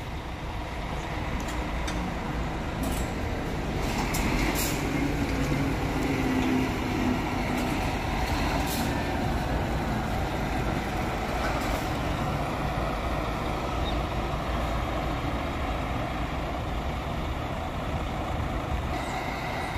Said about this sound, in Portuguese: Então, Viação São Bento vai deixando aí a área de desembarque.